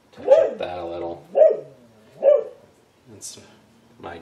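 A dog barks three times in quick loud succession at close range, then gives a shorter, softer bark a moment later, inside a home while someone is doing single-color liquid tie-dye.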